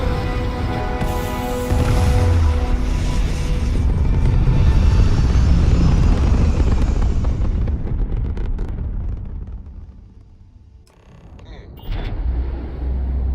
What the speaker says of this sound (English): Liftoff initiated, Captain.